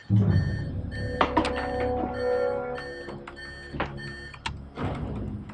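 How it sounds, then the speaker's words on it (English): An alarm in a countdown to a Fat Boy launch sounds in repeated electronic tones and beeps, with shouted voices and background commotion over it. "Someone shut off the alarm."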